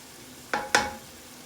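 Two quick sizzling bursts come from liquid hitting a hot pan on high heat, one after the other against quiet background, with no speech.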